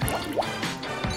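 Water drips and trickles from a homemade pet water bottle held by a suction-cup mount after its cap is loosened, a few soft wet drops and splashes close by, with no talk.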